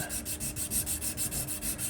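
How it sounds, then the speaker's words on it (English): Steady back-and-forth scraping of cloth-backed, low-grit abrasive on a wooden tobacco pipe stummel, rhythmic strokes about five per second, close and fairly quiet, with no voices. "Hand sanding the stummel."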